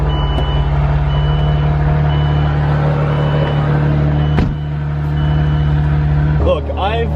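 A Saab 9-3 is moved out of a garage: a steady engine idle hums throughout while repeated reversing beeps sound close by, and a voice speaks briefly near the end.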